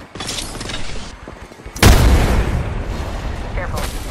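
A frag grenade going off in the Apex Legends video game, one sudden loud blast with a rumbling tail, preceded by clicking mechanical handling and brief shouted callouts.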